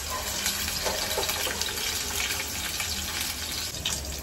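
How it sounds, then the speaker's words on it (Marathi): Frozen potatoes frying in oil on a medium flame for dum aloo, a dense, continuous bubbling sizzle heard up close and fairly loud, steady throughout with no talking. "नंतर थोडे तेलात गोल्डन ब्राऊन होईपर्यंत फ्राय करायचे"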